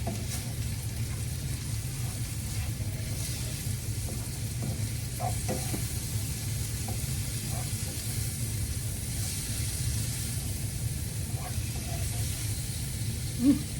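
White chili ingredients sizzle softly in a pot with a low steady hiss and occasional faint scrapes of stirring, no voices.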